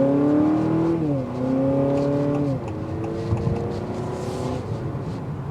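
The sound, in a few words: 2024 Honda Accord hybrid 4-cylinder engine accelerating, exhaust note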